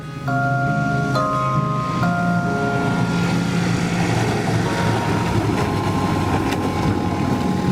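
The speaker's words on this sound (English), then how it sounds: "Hallelujah, the plane came." An arriving airplane gives a loud, continuous engine drone with steady tones that shift in pitch as it approaches, heard alone without talk.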